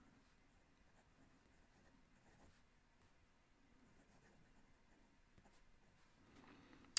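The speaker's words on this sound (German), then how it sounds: "wie der oder diese Feder von Hero hier über das Papier gleitet" Quiet, continuous scratching of a Hero fountain pen's medium nib sliding across 160-gram Clairefontaine paper, soft and close, with small irregular strokes and no talking.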